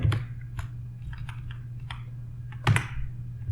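Scattered keystrokes on a computer keyboard, close and crisp, with a louder double tap near the end over a low steady hum.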